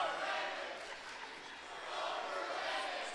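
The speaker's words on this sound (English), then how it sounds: "When you hear chants of overrated coming from the Osseo crowd" A crowd at a boys high school basketball game chants in a swelling, rhythmic roar, rising and falling as one sustained mass of voices from across the gym.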